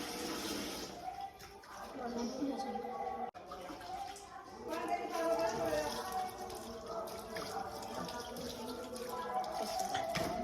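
Water runs from a tap in a steady hiss and splash, with people talking over it throughout.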